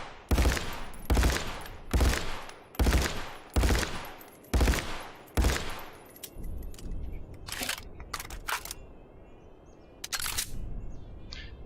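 Automatic rifle firing in the Contractors VR shooting game: several short loud bursts in a regular rhythm, followed by scattered single shots and a few quick bursts fading into softer background noise.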